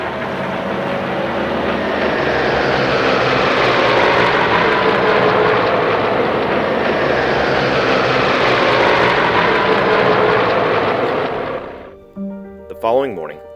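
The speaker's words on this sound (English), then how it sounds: "a distant rumble announced the arrival of flights of B-29 bombers and carrier planes" Flights of B-29 bombers and carrier planes sweep overhead in a massed flyover, a loud sustained engine roar that swells and passes for about eleven seconds before cutting away into talk.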